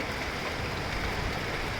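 Rain falls at night over Akola city near the railway station area during a storm, a steady, dense hiss of drops with no clear thunder.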